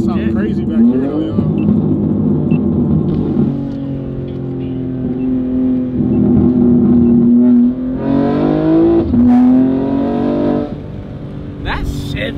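A BMW M3 G80 fitted with downpipes roars loudly through its gears, engine pitch climbing and then dropping with brief pauses at each shift, heard from inside the car with voices over it.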